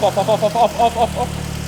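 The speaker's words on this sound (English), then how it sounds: "it was time to try and start the Corsa again" A 1990s Vauxhall Corsa hot hatch being started after fuel-system repair work: the engine turns over in rapid, uneven pulses, then settles into a steady close-up idle.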